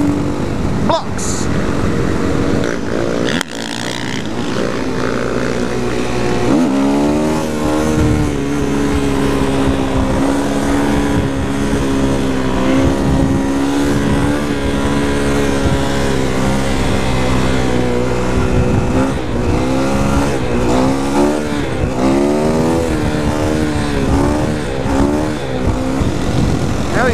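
KTM supermoto motorcycles idling and revving during a group ride, a loud continuous engine drone with rising and falling revs under close, chatty voices throughout.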